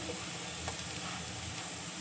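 Makhana pieces for makhana tikka fry in a pan with a continuous close, even sizzle and hiss, no talk over it.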